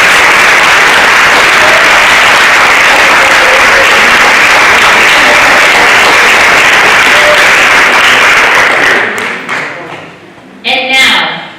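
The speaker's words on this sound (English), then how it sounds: "Would you please all join me in applauding our newest inductees?" An audience at a high school National Honor Society induction ceremony applauds the new inductees, a loud, sustained wash of clapping that fades out near the end, followed by a few scattered claps.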